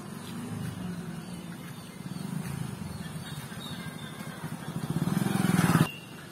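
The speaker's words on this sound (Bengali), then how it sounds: "দেখো সামনে মোটরসাইকেল আসছে" On a muddy road, a motorcycle engine rumbles steadily, then grows louder as it draws near and passes close by before cutting away.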